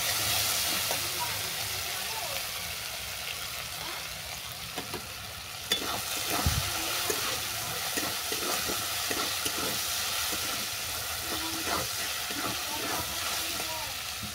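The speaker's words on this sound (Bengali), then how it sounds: "কাঁঠাল দানাটা অল্প করে ভেজে নেব।" Jackfruit seeds frying in a pan give a steady, close sizzle with scraping stirs and small clinks running throughout, the hiss fairly even and unbroken by speech.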